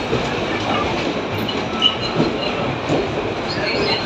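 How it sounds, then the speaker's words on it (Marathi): A train bound for Indore pulls into a station platform on a journey from Ujjain toward Pune, with a close, steady rumble, rhythmic wheel clatter and faint squeals throughout. "आता हे तुमच्यासमोर एक ट्रेन आलेली"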